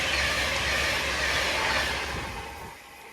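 A train, a class 807 on the London Euston to Liverpool Lime Street route, departs Rugby station with a broad rushing rumble and hiss that fades over about three seconds.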